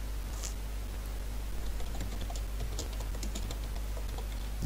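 Typing on a computer keyboard, a quick irregular patter of close key clicks over a low steady hum, with no talking.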